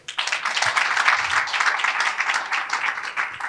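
Conference audience applauding in a hall, a dense, steady wash of many hands clapping that carries on for the full stretch at a fairly loud level, with no voices over it.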